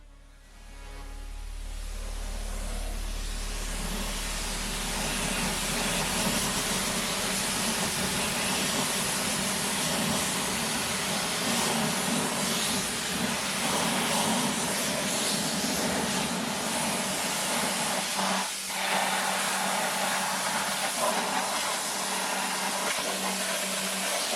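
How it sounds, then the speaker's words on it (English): A pressure washer blasts a loud, continuous roaring hiss of water across filthy car alloy wheels during a wheel-cleaner rinse. It builds up in the first few seconds and then holds steady, with no talk. "it's time to get the wheels rinsed off"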